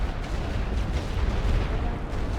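Artillery fire in a Great War Western Front strategy game, a dense continuous low rumble of distant shelling with overlapping booms and no clear separate blasts.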